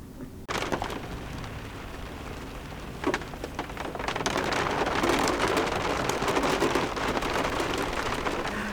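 Heavy rain pours down during a thunderstorm with near 60 km/h wind gusts, a dense steady roar of drops on surfaces that swells louder partway through, with a sharp thump near the middle and no talk.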